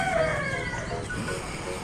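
Chinese chicken hens cluck in a farmyard, making a short, moderately faint run of calls with no talking.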